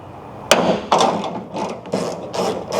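A ratchet with a short extension on an 8mm socket works a tight tailgate bolt on a Gen 2 Toyota Tundra, giving several loud clicking, grinding bursts close by.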